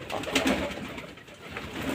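Pigeons coo repeatedly while being fed grain, the soft calls running continuously at moderate loudness alongside pecking and rustling, with no talk.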